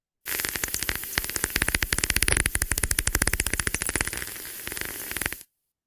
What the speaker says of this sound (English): That would be one of our myotis bats.